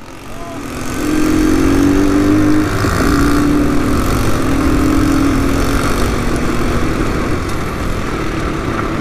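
A cold small engine running loud and steady after a roll start, a rough idle with a low drone that rises briefly at the start, with no distinct revving bursts.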